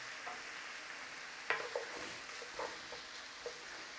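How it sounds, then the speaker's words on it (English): Garlic and leeks stir-fried in a buttery mixture in a pan for a chicken and leek risotto, giving a steady soft sizzle with a few scattered clinks and stirring scrapes, no talking. "Just get it all in and start stir frying that."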